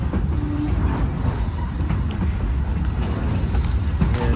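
Three-foot narrow gauge K36 steam locomotive 484 on the Cumbres & Toltec Scenic Railroad arriving with eight passenger cars, a steady close rumble of rolling cars with faint clanks throughout.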